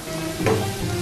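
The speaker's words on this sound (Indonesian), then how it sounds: "Tumis sampai harum" Meat sautés for a bolognese sauce, a steady close sizzle with one brief stirring scrape partway through.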